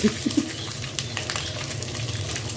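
Eggs frying in a pan with salt and a little turmeric, giving a steady soft sizzle throughout, close and moderately loud, with faint cooing birds early on and no talk.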